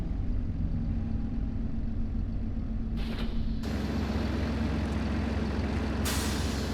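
Truck air brakes hissing while an articulated trailer is hooked up in a farm restoration video game: a loud idling engine rumble broken by two sharp bursts of compressed-air hiss.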